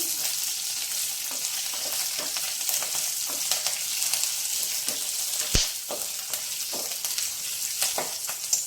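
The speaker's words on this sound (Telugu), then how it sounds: "మనకి ఆవాలు, మినపప్పు కూడా వేగిపోయినాయి." Mustard seeds, urad dal and green chillies fry in hot oil for a Telugu tomato chutney, with a steady close sizzle. Sharp pops and occasional stirring clinks break through it.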